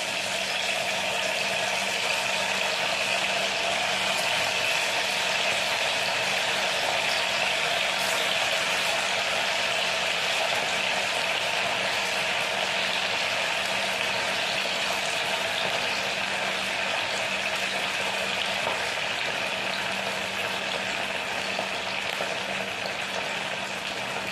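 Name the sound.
vadas frying in hot oil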